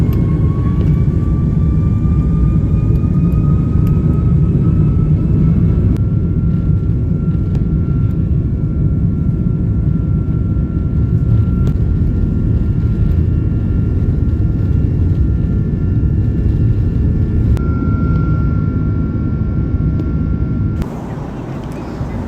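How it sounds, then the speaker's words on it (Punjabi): Loud, steady jet engine roar heard from inside an airliner cabin during takeoff, with rising whining tones as power builds, then the noise drops near the end. "ਹੁਣ ਲੱਗਾ ਬਈ ਉਡਣ ਜਹਾਜ਼"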